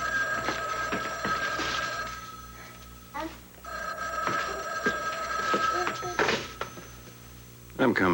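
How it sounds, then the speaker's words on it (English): A telephone rings repeatedly in a dramatic TV soap scene, with bright electronic ring bursts recurring while people talk over it. "Don't answer the phone."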